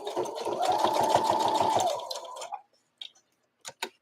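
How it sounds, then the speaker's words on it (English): A sewing machine stitches a seam in fabric at stitch length 4. It runs in a steady close whirring burst for about two seconds, then stops, followed by a few faint clicks and taps. "We're still sewing on a number 4."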